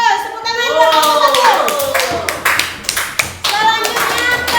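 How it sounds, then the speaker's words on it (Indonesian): A school class claps for a group of students, a short burst of hands clapping after a teacher's voice speaks, with children's voices mixed in and the clapping swelling again at the end. "Tepuk tangan buat kelompok"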